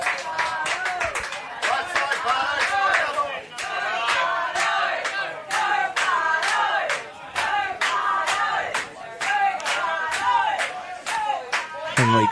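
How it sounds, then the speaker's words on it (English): Home crowd at a Henley baseball grand final cheers and shouts continuously to lift their team, a loud, dense wash of voices with rhythmic bursts of yelling and clapping close by throughout. "Henley crowd doing everything they can to lift their team"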